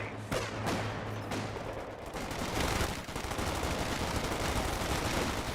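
MG42 machine gun fire rattles in a Company of Heroes 2 battle. Dense bursts of rapid shots and crackling gunfire come through at moderate volume, with a few sharper cracks early and a continuous busy clatter filling the rest.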